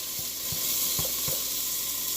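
Seafood soup cooking in a pot gives a steady, even sizzle, with a few soft thuds of stirring spaced through it and no talking.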